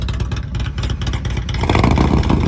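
A Harley-Davidson motorcycle with a Milwaukee-Eight 114 engine is started and runs up close and loud, with a dense rumbling clatter that swells slightly toward the end of the short burst.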